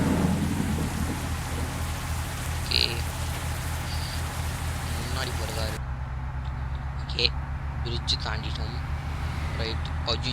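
Steady rain with rumbling thunder in a bus simulator game, a continuous wash of downpour that thins partway through, with someone talking over it.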